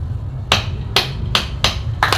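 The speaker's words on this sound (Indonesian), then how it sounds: "saya ketok palu" Gavel knocked on a table at a meeting evaluating preparations for the 2024 regional elections, five sharp, loud, evenly spaced raps close by over low room hum.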